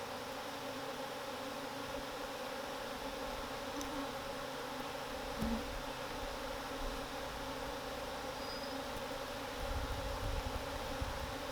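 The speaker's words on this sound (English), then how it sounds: "the bees just start pouring back out again" Angry bees pour out of a hive in a dense, steady hum that fills the air close by, with a few brief louder buzzes passing near and no voices.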